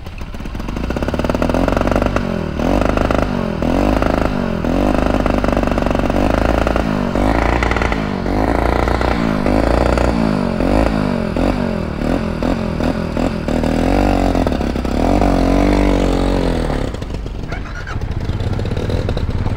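A motorcycle engine labours uphill on a mountain road near Tinjure, Nepal, running loud and close with a rough, wavering drone and throttle surges for most of the clip before easing toward the end.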